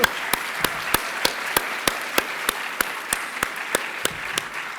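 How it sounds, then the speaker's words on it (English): Conference audience applause at an opening session, with a steady wash of crowd clapping punctuated by sharp, regular claps close to the microphone. "You deserve an enormous amount of applause."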